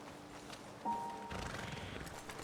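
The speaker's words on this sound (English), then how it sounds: "Monroe, Best leave the horses back a bit." Horses in the Red Dead Redemption 2 video game shift about near a roadside ledge, with a brief snort, hoof movement and soft rustling over faint ambient game sound.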